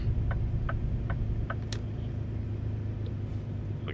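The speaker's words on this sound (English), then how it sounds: "Use a little bit of the old engine brake. It's not very loud. It's a low rumble." A truck's engine brake in American Truck Simulator gives a steady low rumble, accompanied by a few light regular ticks early on.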